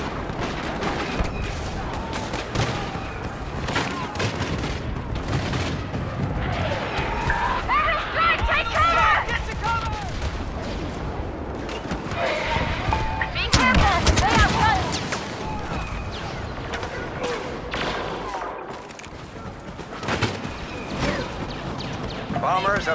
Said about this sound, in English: They fired the homing missile.